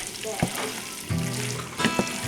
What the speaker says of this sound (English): now we'll turn it off and stir in the tomatoes